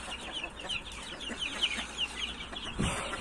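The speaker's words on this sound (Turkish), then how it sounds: "Tavuk." Chickens clucking softly at a distance in a coop where hens are raising newly hatched chicks, a run of repeated clucks with one louder burst near the end over faint background noise.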